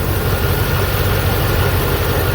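A car engine idles while warming up, a loud, steady low rumble with an even, unbroken throb close to the vehicle and no voices.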